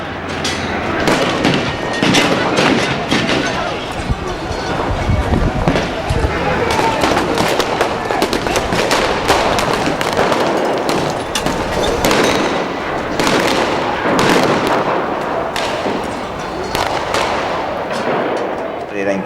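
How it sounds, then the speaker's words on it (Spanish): Gunfire from police during street clashes with piquetero protesters, heard as dense, sharp cracks and bangs in irregular bursts for the whole stretch, loud and layered over crowd noise and shouting voices. "La policía dispara contra los piqueteros."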